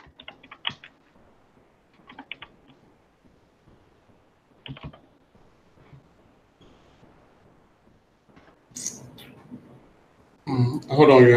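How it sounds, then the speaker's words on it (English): Quick, light clicks of typing on a computer keyboard come in short sporadic bursts with pauses between. The clicks are close but faint, and a louder noisy rush breaks in near the end. "I'll type it in here for y'all."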